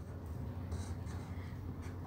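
Handwriting on paper, faint scratchy pen or pencil strokes in short bursts over a low background hum, quiet and close.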